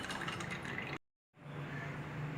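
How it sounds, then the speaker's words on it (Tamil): Water is poured into a glass holding basil seeds for a nannari sarbath drink. A soft, continuous close trickle breaks off briefly, then resumes. "இப்போ தேவையான அளவு தண்ணி ஆட் பண்ணிக்கோங்க."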